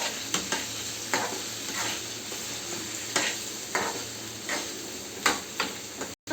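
Turmeric and other ingredients frying in a home pan: a steady close sizzle with occasional stirring scrapes and clinks recurring every second or so, with no talking.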